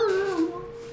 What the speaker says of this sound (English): Wait, is that actually a dog?